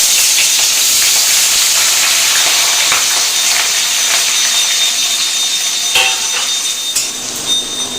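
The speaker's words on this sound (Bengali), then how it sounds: "তো এখানে দুটো শুকনো লঙ্কা আর গোটা গরম মশলা নিয়ে নিয়েছি। ফোড়ন দেবো, তেলটা গরম হয়ে গেছে।" Dry red chillies and whole garam masala dropped into hot oil for tempering, a loud, dense hiss and sizzle that stays steady throughout, close up, with a few sharper clacks toward the end.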